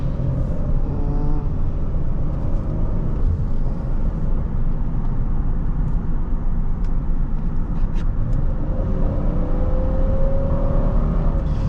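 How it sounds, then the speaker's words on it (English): A 2005 Honda Pilot EX-L engine pulling under acceleration as the VTEC engages, a continuous rising hum with road and wind noise from inside the cabin, steady and moderately loud. "You can hear when the VTEC kicks in"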